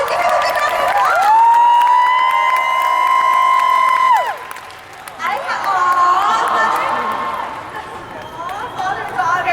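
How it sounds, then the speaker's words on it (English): Crowd at an Anime Expo Sailor Moon convention panel cheers loudly with whoops and a sustained high shout in the first few seconds, then keeps up lively cheering and applause with voices mixed in. "Give him a big round of applause."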